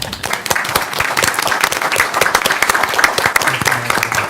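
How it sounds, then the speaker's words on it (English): At a Paducah city commission meeting, an audience applauds the American Red Cross with loud, sustained clapping from many hands close by, with a brief murmur near the end. "That deserves a round of applause."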